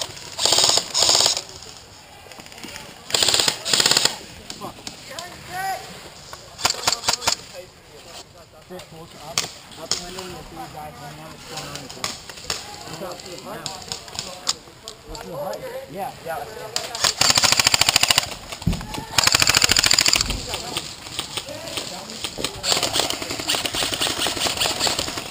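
An outdoor airsoft game brings bursts of sharp, snappy shots from a KJW 1911 gas pistol and other guns, some close and rapid, others scattered. Players talk and shout between and over the firing.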